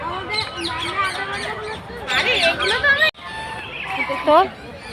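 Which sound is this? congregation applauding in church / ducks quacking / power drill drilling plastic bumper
ducks quacking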